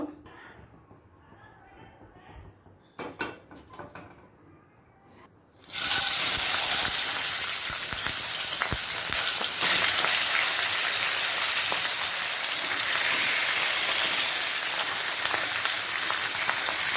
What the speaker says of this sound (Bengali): প্রথমে কড়াতে সর্ষের তেল দিয়ে দেব মাছ তিনটেকে ভাজার জন্য